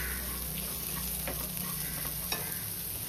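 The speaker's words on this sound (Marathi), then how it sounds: "नॉर्मल असं गोल्डन फ्राय होईपर्यंत मस्त भाजून घ्यायचं तेलामध्ये." Chutney ingredients frying in hot oil in a pan, a steady close sizzle with a few faint stirring clicks and no talk.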